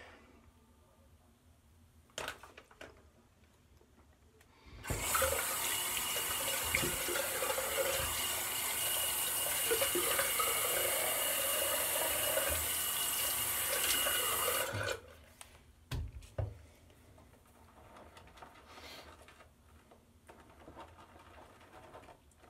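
A bathroom tap runs while rinsing off during a wet shave, a loud steady gush lasting about ten seconds in the middle, framed by quieter handling noises before and after.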